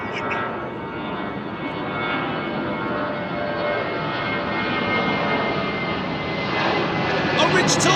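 Jet airliner with Pratt & Whitney engines departing London Heathrow runway 09R overhead, a loud continuous broadband roar that swells slightly toward the end, with someone talking over it.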